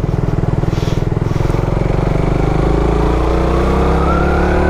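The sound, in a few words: Suzuki Raider 150 FI motorcycle engine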